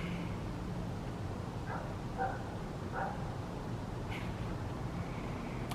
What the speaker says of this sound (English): Sound of a dog barking late at night.